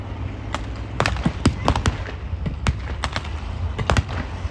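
Blank gunfire from a Honey tank's Browning machine guns and 37mm gun in a WWII desert battle re-enactment at Bovington Tigerday 2023, sounding as sharp, irregular cracks and short bursts at moderate distance.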